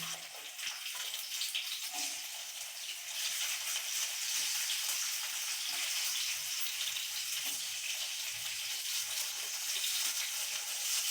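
Potato, chili and onion fry in hot oil in a pan, giving a steady, dense hiss and crackle that runs unbroken and fairly quiet, with no talk over it.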